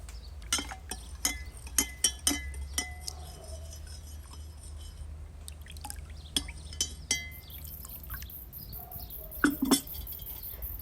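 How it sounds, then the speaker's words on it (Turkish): A spoon clinks repeatedly against a glass as baking soda is stirred into water, giving sharp irregular taps over a low steady hum, with a brief run of quicker clinks near the end. "Bir çay kaşığı kadar karbonatı 1 litre suyun içerisine koyuyorum ve bunu iyice karıştırıp bir yarım saat kadar bekleteceğim."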